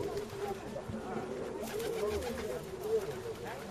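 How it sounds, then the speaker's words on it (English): Pigeons coo softly and steadily in Pigeon Valley, Cappadocia, Turkey, set against continuous open-air background noise. "And pigeons everywhere."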